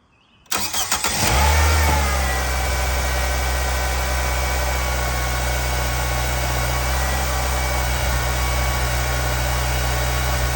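A Nissan Sentra with a 1.8 L engine cranks and catches after half a second, then settles into a steady, even idle. It is recorded up close, with no voices.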